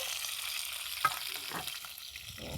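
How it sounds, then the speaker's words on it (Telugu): Green chillies fry in oil with a soft, steady sizzle, with a brief stir or clink partway through; no voices. "కారానికి తగినట్టు పచ్చిమిరపకాయలు వేసుకొని వీటిని ముందు ఫ్రై చేసుకోవాలన్నమాట"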